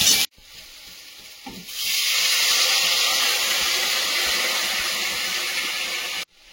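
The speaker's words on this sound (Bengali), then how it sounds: "সবজিটা ভাজা হয়েছে, এবার জল দিয়ে দেবো।" Water is poured into vegetables frying in oil in a pan, setting off a loud, steady sizzling hiss of steam that swells after a quieter start and cuts off abruptly.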